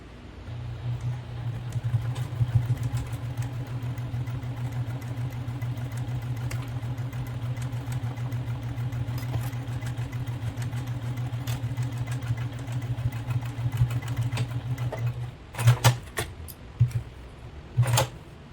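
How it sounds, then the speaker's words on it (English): A sewing machine stitching fabric for a bag runs steadily with a continuous mechanical hum for about fifteen seconds, then stops and starts in a few short bursts. "Okay, we're going to start to sew."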